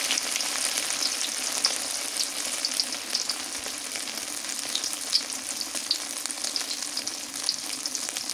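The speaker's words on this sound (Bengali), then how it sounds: "চিংড়ি মাছটা কাঁচাই বাটিয়ে ভাজছি" Raw ground shrimp paste frying in a pan, a steady bright sizzle with small crackling pops that runs continuously at close range, with no talking.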